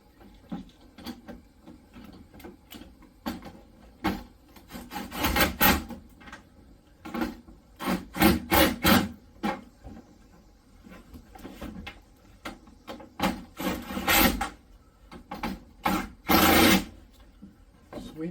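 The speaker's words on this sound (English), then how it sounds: "Now let's tighten these bolts up." Bolts being tightened during an aftermarket stereo and infotainment upgrade in a 2011 Ford Fusion, with irregular clicking and ratcheting bursts, close and moderately loud, broken by short pauses.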